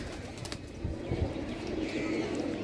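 Pigeons in a rooftop loft give soft cooing under a steady background hum, faint and somewhat distant, with a few brief wing flutters and no clear talking.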